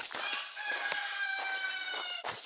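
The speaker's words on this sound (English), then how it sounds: "You can hear the chickens." Chickens clucking and a rooster crowing in the distance, layered calls over a busy outdoor background.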